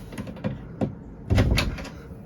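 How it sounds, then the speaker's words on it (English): An RV pocket door's latches are worked back by hand. A few light knocks and rattles come in short bursts, ending with a louder scraping clatter, close and fairly quiet with no talk. "I'm gonna try to see if I can get this door, these latches, to kind of go back"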